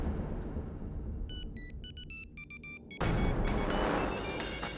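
A telephone rings with a series of short, bright electronic tone bursts in a quiet room during a courtroom drama scene, then a sudden loud whooshing rush of sound takes over.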